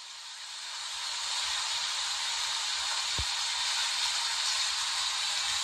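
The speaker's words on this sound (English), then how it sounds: "When you hear rain, does it sound like this?" Steady, even hiss of rain falling, broadband and constant throughout, with a brief low thump partway through.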